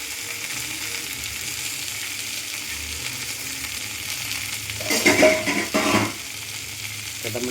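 Ginger frying in a pan makes a steady close sizzle, with a louder burst of scraping stirs in the middle before it settles back to an even hiss.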